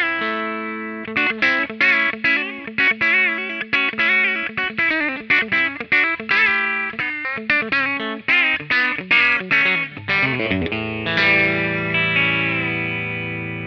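Gibson Music City Jr. electric guitar with a B-Bender, played on its bridge pickup through effects with light distortion and chorus, picking a fast run of clipped notes and bends, then a ringing chord at the end, with no talk.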